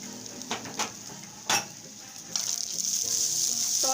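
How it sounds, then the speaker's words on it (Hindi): Samosa filling of finely chopped onion, green chilli, coriander and mint sautéing in a pan, a close sizzle punctuated by a few sharp utensil knocks, then a louder, steady frying hiss. "तमाम चीजें डाल के मैं अच्छी तरह से भून लूंगी।"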